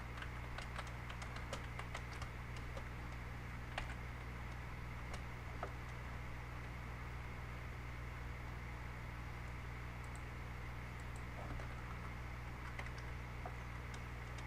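Soft keystrokes patter irregularly on a computer keyboard, faint beneath a steady electrical hum and fan-like noise, with no voices present.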